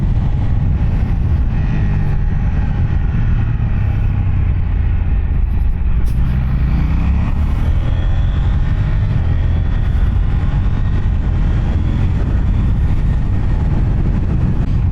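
A KTM Duke 790 motorcycle cruises on auto cruise, its engine a steady, loud low drone mixed with heavy rushing wind that stays even throughout.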